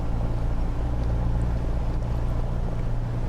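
A piston aircraft engine in Microsoft Flight Simulator 2020 drones loudly and steadily during its run-up, with a dense, even, low throbbing roar that holds without a break.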